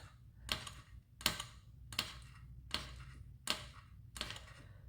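A blade chops strips of polymer clay into small pieces on a hard surface, six crisp, evenly spaced cuts about every three quarters of a second, close and fairly quiet with no talking.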